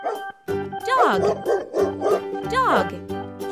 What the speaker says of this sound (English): Dog! Dog!